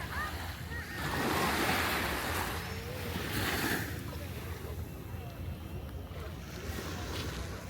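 Waves washing onto a free public beach at Port Dickson, a broad continuous surf wash with gentle swells and light wind noise, with faint talk in the background.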